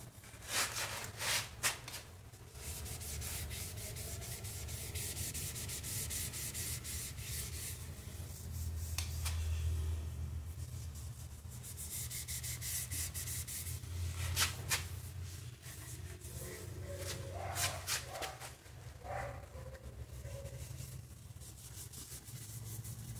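Crystal wax is rubbed by hand onto a small wooden bombe dresser, making a soft, continuous close-up rubbing and scuffing that runs in long strokes with brief pauses.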